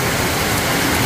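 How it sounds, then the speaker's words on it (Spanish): Heavy rain falls in a dense, steady hiss, loud and close, sustained without pause and with no voices. "Está lloviendo. Está recio el agua."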